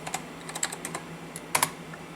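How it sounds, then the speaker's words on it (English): Keys clatter on the computer keyboard of an IBM RS/6000 40p workstation, a short burst of light, close taps in an uneven rhythm with a couple of sharper presses near the end. "I'm going to type in boot now."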